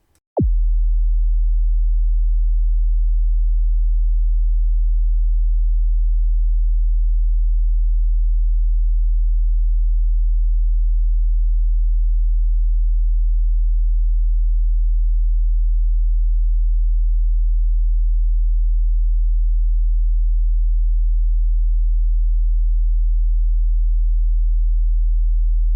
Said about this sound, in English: I'm going to switch on the 40 Hz tone now for 10 seconds